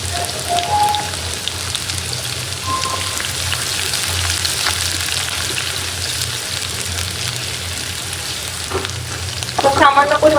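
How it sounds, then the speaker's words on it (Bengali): Onions fry in hot oil with a steady, close crackling sizzle that continues throughout, and a few light utensil clinks and stirring sounds near the end. "তো তেল দিয়ে দিয়েছি, এখন দিয়ে দিব হচ্ছে পেঁয়াজ। তেলটা গরম হয়ে গেছে।"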